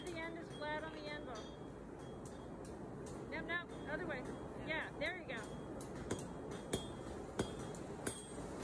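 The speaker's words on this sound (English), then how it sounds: "Now we are starting on the axe head slash hoe head by hitting the end of the taper." Hammer blows on a bronze taper during forging of a bronze-age style axe or hoe head, sounding as sharp metallic clinks that grow more distinct and regularly spaced toward the end, with a bird-like chirping and background noise throughout.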